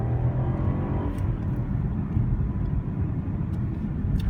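A BMW 7 Series in sport mode gives a steady, deep engine rumble from inside the cabin as it accelerates, a constant low drone with no voices over it.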